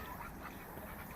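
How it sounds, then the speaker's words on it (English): A flock of white Pekin ducks quacking on a farm, a dense, steady chorus of overlapping calls close by that fills the whole moment without pause. "Those are my ducks."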